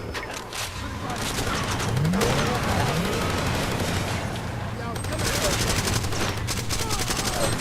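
MP5 gunfire in the video game Far Cry 2, sustained rapid bursts with a rumbling vehicle underneath, moderately loud, with someone talking over the shooting.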